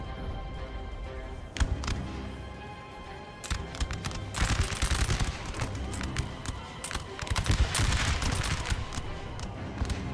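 Infantry musket volleys crackle through a Napoleonic Total War 3 battle between Russian and French forces, with bursts of rapid shots swelling and fading over ongoing battlefield noise and speech.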